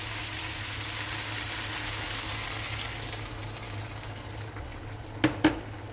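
Thick coconut milk simmers with bitter melon and tempeh in a pot, giving a soft, steady bubbling, faint and close, with two brief clinks near the end.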